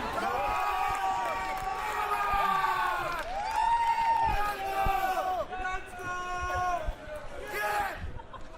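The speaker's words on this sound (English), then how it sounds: "We have some intense cheering going on here." A crowd cheers and shouts at a badminton match between Teramor Titans and Starry Smashers players, a sustained roar of voices that rises and falls in waves, with a commentator talking over it.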